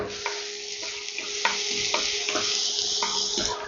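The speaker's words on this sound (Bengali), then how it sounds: "এখন আমি এই তেলের মধ্যেই মিন্সড গার্লিক, যেটা রসুন কুচি, দিয়ে দিলাম 2 টিস্পুন" Two teaspoons of minced garlic sauté in hot oil, giving a continuous close sizzle broken by regular scraping taps from a stirring utensil.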